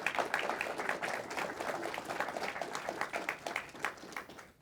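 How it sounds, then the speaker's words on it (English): An audience at a public-finance workshop on AI and GovTech applauds the panelists, a dense, steady roomful of clapping that holds at a moderate level for several seconds and then tapers off at the end. "please give a round of applause to the panelists"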